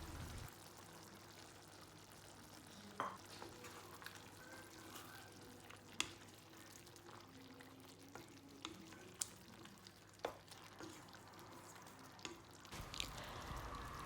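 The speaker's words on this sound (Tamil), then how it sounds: "அப்படி இல்லைன்னா நல்லா எண்ணெய் பிரிஞ்சு வர வரைக்கும் நீங்கள் நல்லா ஃப்ரை பண்ணணும்" Dry chicken chukka with powdered spices and lemon juice, frying in oil and stirred in a pan. A faint, steady sizzling hiss runs throughout, with sparse light clicks of a utensil against the pan.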